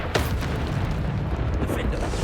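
A Bombarda explosion spell goes off in Hogwarts Legacy, a loud, rumbling boom that bursts at the start and keeps roaring as a dense, noisy blast throughout, with a voice faintly underneath.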